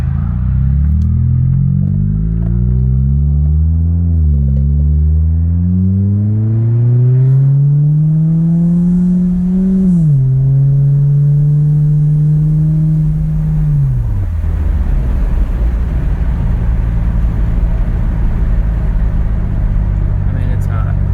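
A 2012 Ford Fusion 2.5L four-cylinder with a Magnaflow 10416 exhaust, heard from inside the cabin as it accelerates hard through the gears, engine drone rising in pitch, dropping at each shift, then settling into a steady cruise hum.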